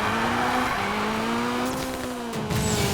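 Honda Civic race car with over 500 horsepower cornering in the Need for Speed Payback video game, a steady engine drone with a sliding pitch, tire squeal and a brief louder burst near the end, loud and close.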